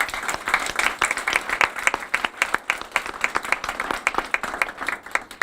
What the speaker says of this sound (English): Please give another round of applause for everyone who has worked on this initiative.